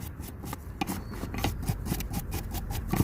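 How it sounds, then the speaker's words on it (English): Wire brush scrubbing a brake caliper bracket on a Hyundai Santa Fe, quick repeated rasping strokes in an uneven rhythm, close and moderately loud with no talk. "just clean it a little bit with wire brush"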